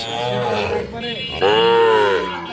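A young bull calf lets out a loud, drawn-out moo close by, with people talking around it at a cattle sale.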